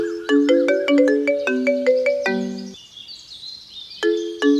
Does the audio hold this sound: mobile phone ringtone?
yes